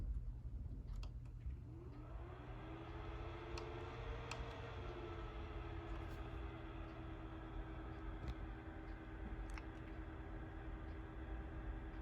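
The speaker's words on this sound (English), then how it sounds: "the fans do make a little humming sound together" The fans of an AirDog TeslaAire car air purifier on low setting give a steady low hum with a faint rising whine throughout, soft and even, with a few light clicks on top.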